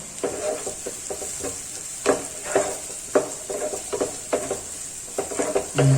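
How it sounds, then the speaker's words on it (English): Turmeric and Kashmiri red chili powder being stirred into akuri, spiced scrambled eggs, in a sizzling pan, with repeated scraping strokes of a spoon against the pan over a steady frying hiss, close and without talk. "We will add in the turmeric now, the Kashmiri red chili powder for a nice color."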